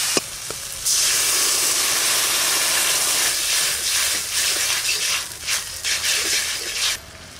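Water boils hard in a pan of sour-fruit katla fish curry, a loud, close, steady steam hiss that swells in uneven waves for several seconds before cutting off.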